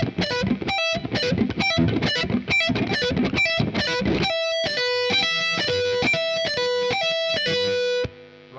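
A distorted electric guitar plays a fast shred lick with uneven picking, a slight gap falling at each string change; the notes are dense and gritty at first, then clearer single tones ring before cutting off, close and without talk.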